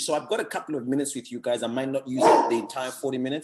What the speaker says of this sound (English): You might hear a dog barking in the background.